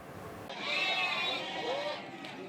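Goats and sheep for sacrifice bleat at a busy livestock market in Lumajang at the foot of Mount Semeru, one long wavering bleat rising clearly, close and fairly loud over crowd murmur.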